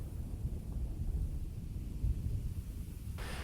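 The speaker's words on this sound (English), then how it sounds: "clouds form and thunder rolls" Low, steady rumble of rolling thunder in the Dark Souls video game, a continuous distant roar with a brighter wash of noise rising at the very end.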